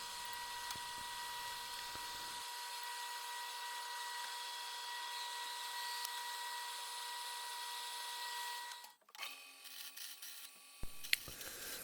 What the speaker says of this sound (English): I'll go to the drill press and drill some holes